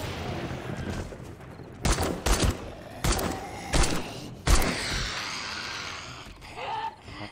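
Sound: assault rifle gunfire in video game 7 Days To Die

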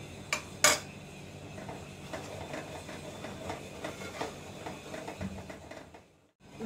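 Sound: gram flour (besan) being roasted and stirred in a pan

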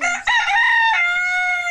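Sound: rooster crowing

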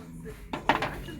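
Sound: small macchiato cups being handled, clinking

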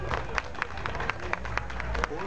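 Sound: audience applause welcoming the group Chasque Campeiro

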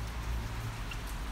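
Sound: rain outdoors with cars going by

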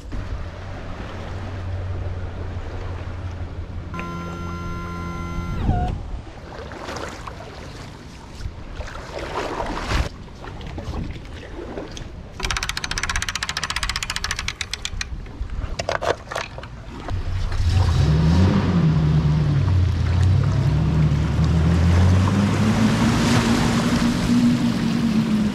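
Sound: homemade Trashliner boat running on water

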